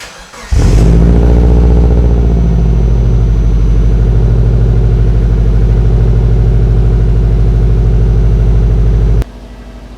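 A car's engine catches after a brief crank near the start and settles into a loud, steady running drone close by, continuing unbroken for several seconds before cutting off abruptly near the end.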